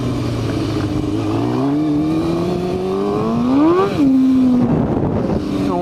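A motorcycle is revved in repeated climbing pulls to warm up the tire, loud and close. The pitch sweeps upward in swells, then settles back to a steady rumble.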